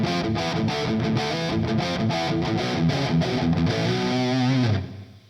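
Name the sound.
electric guitar through Lekato PA-1 Mr. Smith Distortion, PRS Archon model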